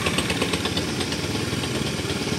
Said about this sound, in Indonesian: Dan suara mesin insya Allah aman ya, tidak ada suara aneh-aneh.